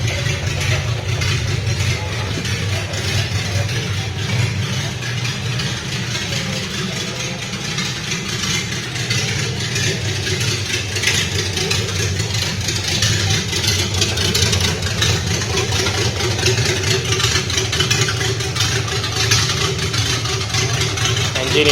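A 1971 Datsun 240Z series 1 idles steadily after its first startup in over 20 years, a low, even engine rumble close by with slight fluctuations, running on a simplified fuel pump setup.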